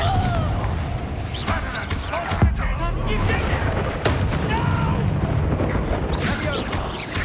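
A Confringo fire spell from the game Hogwarts Legacy bursts amid a run of booming blasts and crackling impacts, with sharp hits recurring over several seconds in a loud, busy combat mix.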